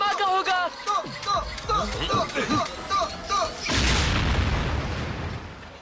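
A cartoon explosion in an animated Transformers Robots in Disguise episode, a loud, sudden blast of roaring noise that rumbles and fades over a couple of seconds, following brief chirpy character voices.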